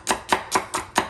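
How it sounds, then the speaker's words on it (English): A spurtle chops crushed Oreo cookies for gluten-free Oreo waffles, giving five quick, evenly spaced knocks, close and fairly loud with nothing else heard. "You can do a little chopping action"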